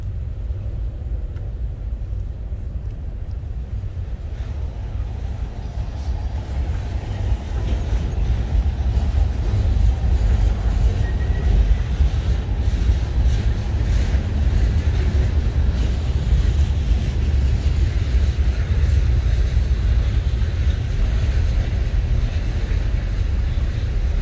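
Long freight train on the line to the BRC Clearing Yard rolls past with a non-leading ST48H locomotive, the Tier 4 version of the SD70ACE, in the consist and no DPU. It makes a loud, continuous close rumble that grows heavier after the first few seconds.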